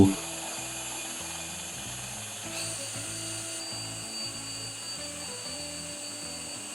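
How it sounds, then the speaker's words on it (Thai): Power drill running continuously, its motor pitch shifting up and down as it bores holes in a wooden board, steady and close with no pauses. "แล้วผมก็มาเจาะรูแผ่นไม้ด้านล่างนะครับ3รู"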